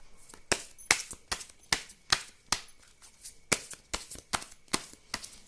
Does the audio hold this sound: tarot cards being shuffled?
yes